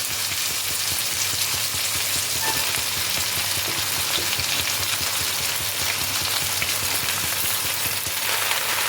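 Bottle gourd greens frying in hot oil with other vegetables, a loud dense continuous sizzle and crackle that stays steady throughout, close up with no talk.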